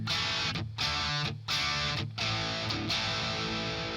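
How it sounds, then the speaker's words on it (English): An electric guitar with a single-coil pickup plays through a distortion pedal, giving sustained, buzzy chords with a few brief breaks between strums, close and alone. "So you get that single coil with distortion."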